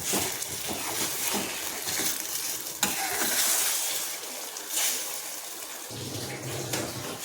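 Egg bhurji sizzles and crackles in a hot pan while being stirred, a steady frying hiss with scraping stirring strokes, close and fairly loud.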